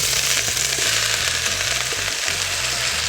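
Onions frying in a pan for fajitas give off a steady, loud sizzle with faint stirring underneath, and nobody speaks over it.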